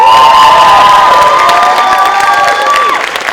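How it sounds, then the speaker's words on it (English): A loud live comedy show crowd cheering and shouting with high whoops and scattered clapping, close and continuous throughout. "Can we give a warm round of applause for Barty and Mamar"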